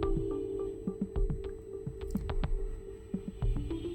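Malabar spinach leaves dropped into hot spiced oil in a pan, giving close, scattered wet pops and crackles over a steady low hum.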